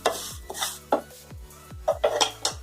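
Vermicelli being stirred and roasted in a pan for seviyan, giving scraping, clinking strokes of a utensil against the pan at an uneven rhythm, close and moderately loud with no talk.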